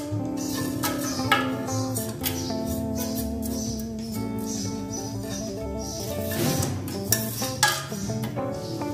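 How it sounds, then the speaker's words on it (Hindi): Whole garam masala spices dropped into a pot of hot oil, with crackling sizzle, clinks and stirring scrapes against the metal pot, close and fairly busy, no talking. "गरम हो जाए तो आपने सारा गरम मसाला इसमें डाल देना है।"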